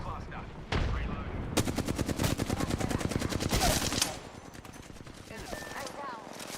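Video game gunfire: a single shot, then a long rapid burst of automatic fire, close and loud, fading to quieter game sounds and scattered distant noise.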